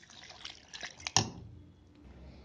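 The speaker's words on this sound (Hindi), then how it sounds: "हाफ ग्लास इसमें पानी डालेंगे।" Half a glass of water poured into a mixer grinder jar holding cucumber, sugar and lemon, heard as a brief close splash and trickle that fades quickly into quiet.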